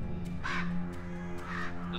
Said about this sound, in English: Those birds are freaking me out